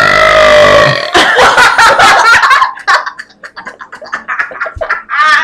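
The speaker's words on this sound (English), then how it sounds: "See if I build it up like that, it burps really good." One loud, long, low burp from a person after drinking soda, close up, followed by bursts of laughter and giggling from several people.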